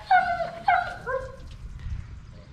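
A dog gives a couple of sharp yelping barks followed by a drawn-out whimper, close by, with a low background rumble.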